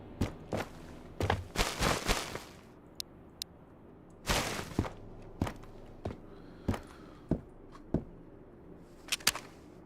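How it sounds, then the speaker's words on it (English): Irregular footsteps and scuffing thumps in a video game come in clustered bursts with quieter single steps between, fairly close, with no voices. "Thought I heard footsteps."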